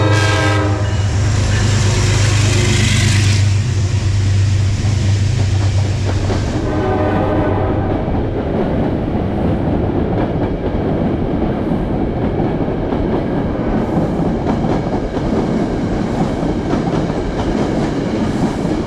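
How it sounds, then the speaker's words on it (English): A train roars past close by, loud and continuous. Its horn blares at the start and then fades into heavy rumbling and the clatter of the wheels. "the train that just passed"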